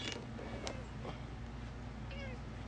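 A cat meows briefly a couple of times, fairly close, over a steady low background hum with no talking.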